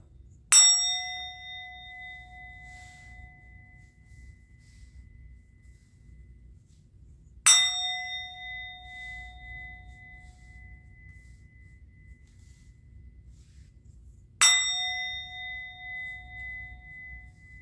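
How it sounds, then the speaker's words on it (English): A bell rings three times, about seven seconds apart. Each strike is clear and bright with a long ringing decay over near silence. "I'm going to ring the bell."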